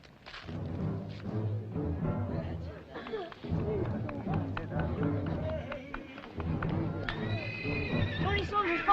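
Horses neigh and whinny amid clip-clopping hooves and a busy murmur of people, with a final high whinny rising near the end.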